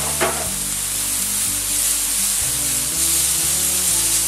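Lamb kidneys and mushrooms sizzle loudly in a pan with a tomato and herb mixture, a bright, continuous frying hiss with a brief stir near the start, while steady background music plays throughout.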